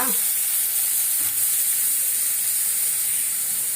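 Onions sautéing in a pan as the base for a prawn gravy, a steady, bright sizzle and hiss filling the whole stretch, close and even, with a faint clink near the start and no talk.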